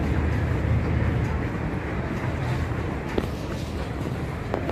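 Rumbling of a train in a Hong Kong station, a low, steady mechanical drone with occasional clanks and squeals, under faint background voices.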